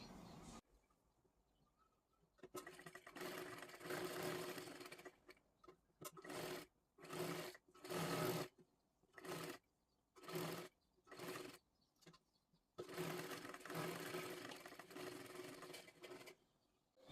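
Sewing machine stitching blouse fabric: a long steady run, then a series of short rhythmic bursts with gaps, then another sustained run, close and fairly quiet, no voices.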